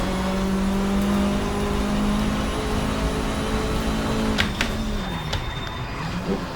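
A car skids under hard braking with its wheels locked, tyres squealing in a sustained tone that bends as it drifts round a corner, close by over a steady engine drone.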